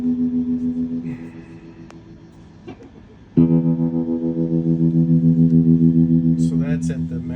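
A Marshall 1958x amplifier with its tremolo set to maximum speed pulses a sustained guitar tone in a fast, steady throb; a quieter stretch gives way to a loud renewed chord, with brief talk at the end.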